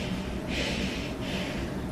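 A voice imitates a breastfeeding baby's snorting, Darth Vader-like breathing through a squashed nose, two rasping breaths, close and fairly loud.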